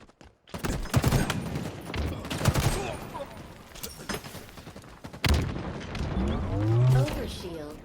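Rapid bursts of gunfire crackle in a dense, chaotic exchange, mixed with game sound effects and a low voice murmuring underneath, in a Slayer match.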